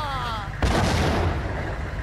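In the Max Payne video game, a grenade goes off with a sudden, heavy boom that cuts through a quieter stretch of game audio, then a crackling, rumbling tail fades out over the next second and a half.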